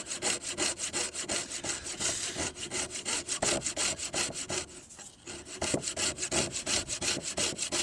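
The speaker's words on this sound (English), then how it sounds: "Using my coping saw once again." A sharp coping saw cuts a notch in a composite deck board, the steady rapid back-and-forth rasping strokes loud and close, with a short pause near the end before the sawing resumes.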